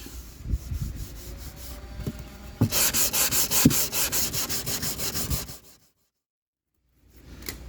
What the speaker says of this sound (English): A lot of hand sanding now.